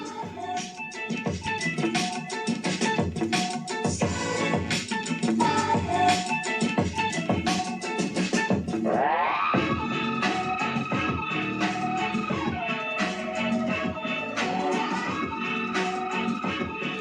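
Homemade panel speakers playing music in a room, a busy, dense mix heard continuously at moderate loudness, with sustained sliding tones entering about halfway through and no one speaking.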